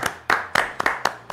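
Sharp, isolated hand claps close by, six distinct slaps spaced roughly a quarter second apart in a steady rhythm, with no talking between them.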